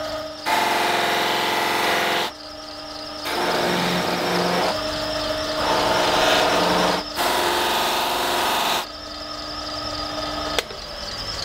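A motorized cloth buffing wheel breaks the edges of the rivets on a paring knife handle. It whines in several steady runs of a few seconds each, with brief drops in pitch and pauses between passes.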